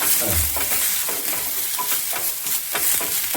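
Hot tempering sizzles and crackles loudly and steadily as it hits sprouted horse gram sambar, a continuous close frying hiss with no voices.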